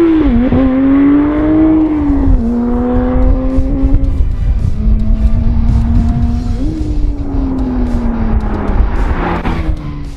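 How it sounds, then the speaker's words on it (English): Porsche 911 Speedster with its naturally aspirated GT flat-six revving hard and loud, pitch climbing and falling through several sweeps over a continuous roar close by, no talking. "So you want to hear this engine?"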